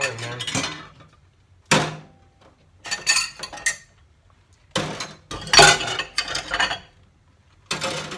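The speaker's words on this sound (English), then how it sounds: "So I'm gonna do my silverware first." Handfuls of silverware are dropped into a sink of dishwater, giving bursts of clattering metal clinks and splashes separated by short quiet pauses, close and loud.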